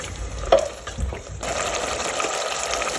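Beef and mushroom frying in oil give a steady close-up sizzle. A brief clatter from a utensil or pan comes early, then the bubbling hiss settles into a continuous, even texture.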